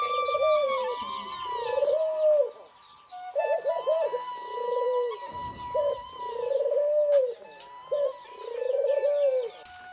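Doves kept at a dove farm coo loudly and close by in a steady series of soft, rolling calls with short pauses between them. Some faint higher chirps sound in the background, and no one speaks.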